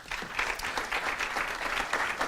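Live audience at a Q&A event giving a round of applause, a steady, dense patter of many hands clapping at even strength throughout, moderately distant, no speech on top.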